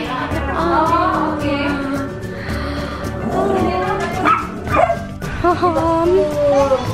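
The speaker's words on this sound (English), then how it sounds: "Oh, and I hear the dogs." Several dogs barking and yipping in a home in Indonesia, with a few whimpers mixed in, loud and close, under ongoing family chatter.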